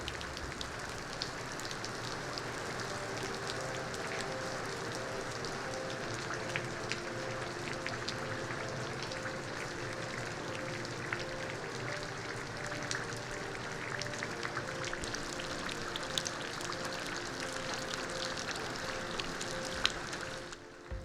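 Steady rain falls at an off-grid tiny house campus in Mexico at dusk, a dense even patter of drops on surfaces with occasional louder splashes, constant and moderately quiet throughout.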